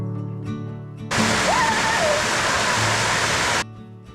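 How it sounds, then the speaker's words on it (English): A small waterfall at Charco Prieto in Puerto Rico bursts into a loud, close, steady rush of splashing water for a few seconds, framed by quieter background sound before and after. "This little waterfall is perfect for rinsing off the dirt before heading to your car."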